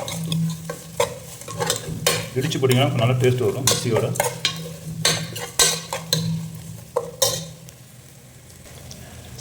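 Oily sizzling of masala frying in a pan for mackerel fish curry, with stirring scrapes and clinks of a spoon, while someone speaks over it.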